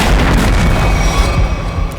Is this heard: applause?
no